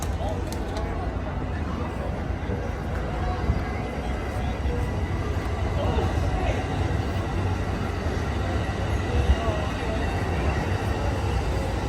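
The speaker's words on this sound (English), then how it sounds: "this is Amtrak 14 going into reverse right now" The Amtrak Coast Starlight, train 14, reverses at Oakland Coliseum station in California, giving off a steady low rumble and rail noise that holds level throughout at moderate volume.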